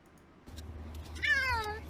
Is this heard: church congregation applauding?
no